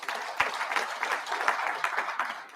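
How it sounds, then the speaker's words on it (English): Audience applause with dense, even clapping that stays steady throughout, fairly close and moderately loud. "Join me to clap for our sponsors."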